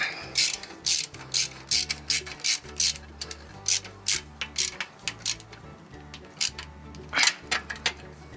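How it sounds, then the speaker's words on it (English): Terminal screws being tightened while wiring a mini split, a series of sharp ratcheting clicks in short regular bursts, close and fairly loud, with no talking. "So when you tighten these guys, you really need to cinch them down."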